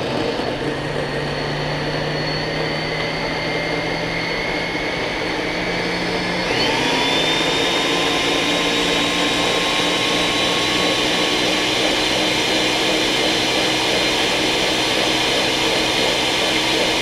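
A kitchen blender whirs steadily as it purees cilantro, onion slices and a little water, a loud continuous motor drone that shifts pitch partway through as the load changes.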